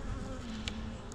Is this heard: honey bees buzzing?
yes